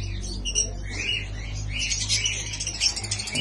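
Birds in a small home aviary chirping and twittering continuously in dense, overlapping high calls, close by, over a low background hum.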